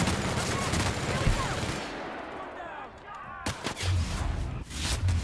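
Rapid weapon fire in The Outer Worlds, a dense, loud burst of shots that drops away near the middle and then returns in a few sharp, separate bangs.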